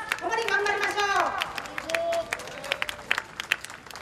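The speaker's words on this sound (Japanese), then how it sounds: "力強い激励の拍手を送りたいと思います。" At a large 2015 political rally opposing the Abe government, a voice speaks over a busy crowd, then scattered, sharp claps break out and build into sporadic applause.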